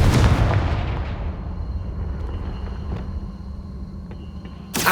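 Confringo fire spell detonating in Hogwarts Legacy, a loud, close explosive burst at the start that decays into a lingering rumble and crackle, followed by faint ambient tones and a sharp new impact at the end.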